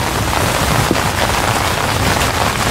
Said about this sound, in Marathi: संततधार पाऊस.